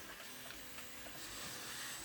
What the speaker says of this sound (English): You can hear the 3D printer running in the background